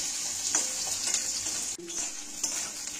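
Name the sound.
potatoes and onions being stirred and fried in oil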